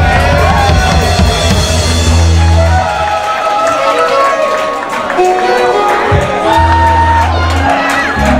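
A crowd cheers, whoops and shouts for a singer at a concert with a band. The roar is loud and sustained, mixed with clapping, while band tones and voices sound underneath.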